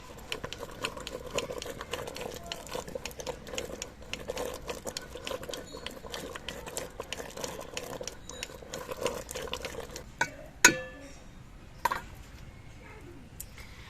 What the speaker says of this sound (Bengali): এবার আমি ডালগুলো একটা ডালের কাঁটা দিয়ে ঘুটে দিচ্ছি।